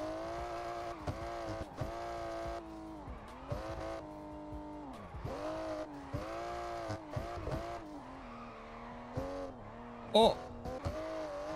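In the No Hesi racing game a car drifts through traffic, its engine revving hard with repeated pitch drops at gear changes and a sharp burst of tire squeal, while a person talks over it.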